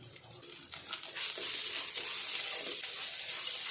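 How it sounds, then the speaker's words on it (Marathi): Onion and ginger garlic paste sizzle steadily in a hot pan for a vegetable curry of cauliflower, peas and potato, a close continuous frying hiss that swells slightly after the first second. "तिला पण छान परतून घ्यायचे आलं लसणाची पेस्ट परतली"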